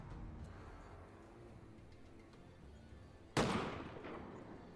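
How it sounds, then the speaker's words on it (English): A single heavy cannon blast booms out in a Mount & Blade II Bannerlord battle, loud and sudden after several seconds of quiet battlefield ambience, then trails off in a long rumbling decay. "the cannon fire is insane"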